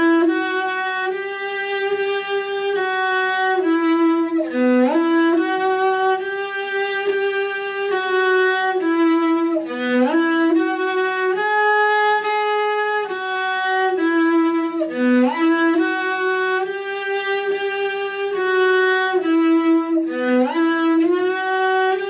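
A cello plays a Suzuki Book 3 positioning etude in fourth position: a continuous run of bowed notes, smooth and sustained, with regular pitch shifts and steady volume throughout, close and alone with no voices.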